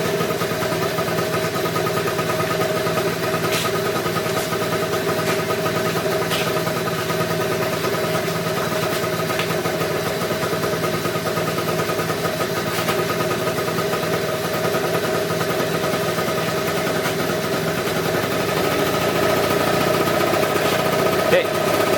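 A scooter engine idles steadily and evenly for the whole stretch, a constant low hum with light mechanical clatter and no change in revs.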